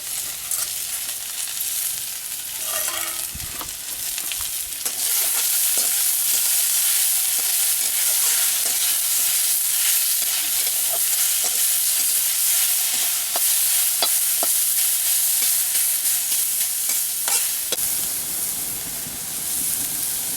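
Saag greens frying in a pan while being stirred, a loud, continuous sizzle and hiss with scraping stirs throughout, no talk.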